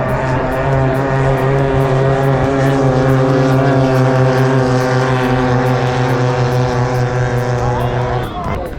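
Racing boat engines at a Thai boat race in Bangkok roar in a loud, sustained drone with a strong steady pitch, then cut off near the end.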